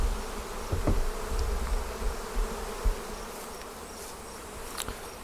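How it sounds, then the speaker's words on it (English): A heavy cluster of honey bees swarming, a dense continuous buzzing drone close by with a few individual bees passing nearer, no voices. "Nice heavy cluster of bees there."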